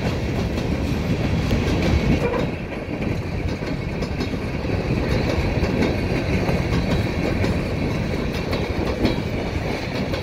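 A CSX freight train rolls past west of Oxford, Ohio, with a Conrail car and lumber flatcars in the consist, giving a steady, close, loud wheel rumble and clickety-clack that holds without a break throughout.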